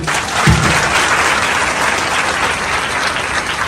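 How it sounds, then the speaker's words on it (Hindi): Loud, dense applause from a large audience at a coaching institute anniversary event honouring a DIG, sustained and even throughout with no voices over it. "हमारे डीआईजी परवेज अख्तर सर के लिए जोरदार ताली।"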